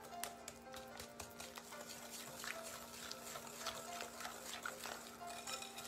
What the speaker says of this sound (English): Adding 2 eggs here, people. Okay, I'm just gonna stir this up.